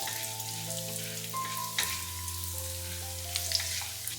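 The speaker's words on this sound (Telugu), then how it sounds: "వీటిని మనం బాగా వేయించుకోవాలి" Black gram, chana dal, mustard seeds and cumin seeds fry in hot oil for an upma tempering, giving a steady, close sizzle and crackle with a few light stirring clinks and no voices.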